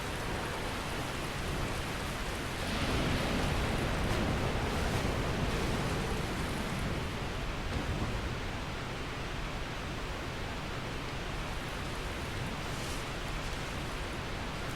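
Waterfall in the Dark Souls video game, a continuous broad rushing roar that swells slightly early on and then holds steady, close and fairly loud, with no talking.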